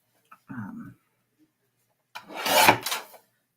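A paper border on a Halloween papercraft being trimmed, giving a short rasping scrape followed by a longer, louder scraping pass after a pause of quiet.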